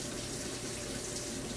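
Cold water pours from a kitchen sink tap into a pan of boiled eggs, a steady close splashing rush with no pauses and no speech.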